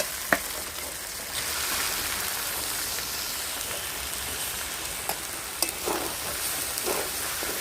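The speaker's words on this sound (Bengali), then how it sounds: "এর মধ্যে আমি চালগুলো দিয়ে দিচ্ছি" Soaked rice and lentils tipped into meat masala frying in a pan for chicken bhuna khichuri, giving a steady close sizzle with a few sharp pops and clatters of grains landing, no talking.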